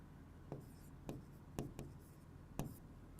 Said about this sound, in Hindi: मैं तो यहाँ पे लिख देता हूँ